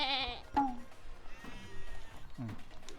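Sheep bleat in the video game Moving Out, giving short cartoonish bleats at the start and again near the end, mixed with players talking over the game audio.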